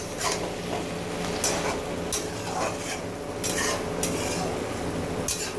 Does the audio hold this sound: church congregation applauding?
no